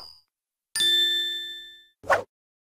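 A single bright bell strikes once with a clear ring that fades over about a second, then a short, sharp burst follows in near silence.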